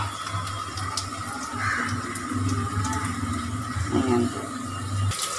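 Water draining out of rinsed poha (flattened rice), a soft trickling pour running under a brief spoken word, close by.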